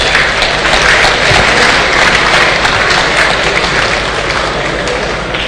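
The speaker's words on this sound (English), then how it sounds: "Please give him a beautiful round of applause again" Applause from a large gathering at an Anglican diocesan synod in Lagos, 2016: many hands clapping in a loud, continuous wash that holds evenly and tapers slightly toward the end.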